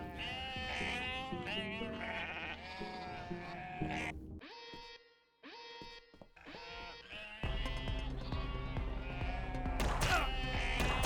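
Sheep bleating in the video game Unmetal, several wavering bleats overlapping over game music and effects, loud and close with brief quiet gaps between calls.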